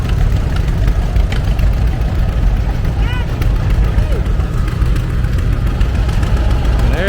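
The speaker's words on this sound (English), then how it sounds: "There goes a Farmall D." Farmall D antique tractor engine chugging steadily as it drives past at an antique tractor show parade, a loud, continuous low rumble with other engines and voices around.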